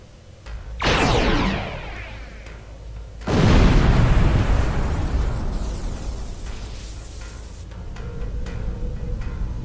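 A torpedo launch and heavy explosion in the space game Star Trek Online: a sharp rising whoosh followed seconds later by a loud, booming blast that rumbles and slowly fades, then quieter tones.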